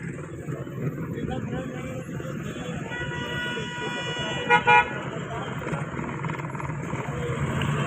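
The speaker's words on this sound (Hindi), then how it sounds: "शदीद ट्रैफिक जाम है इस वक्त" Dense traffic jam in Mansehra with car horns honking, a couple of loud toots rising midway over a constant rumble of idling vehicles and street noise, with someone talking throughout.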